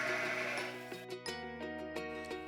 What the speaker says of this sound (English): "Bah," said the sheep.